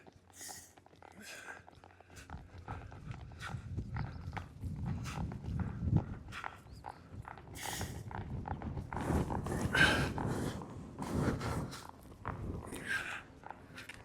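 Hoofbeats of a horse loping in a riding session, a steady rhythmic thudding that runs through most of the stretch at moderate loudness, with a rider talking over it.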